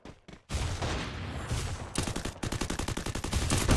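Gunfire in the video game Free Fire comes as loud, rapid bursts, first a dense volley and then evenly spaced rattling shots close up, with no talk.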